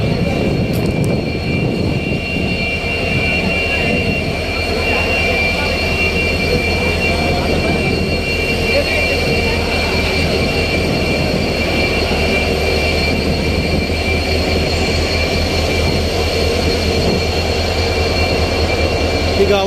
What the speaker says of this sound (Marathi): समोर एक रेल्वे चाचणी घेण्यासाठी जी रेल्वे आलेली आहे ती सुद्धा पाहू शकतात.